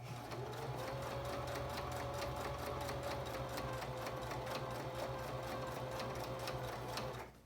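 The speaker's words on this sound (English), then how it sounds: "This is going to go back and forth over the pipe cleaner to hold it into place on the mask." A sewing machine zigzag stitches over a pipe cleaner on a fabric mask, a fast, steady, continuous needle rhythm for several seconds before stopping, close and fairly quiet.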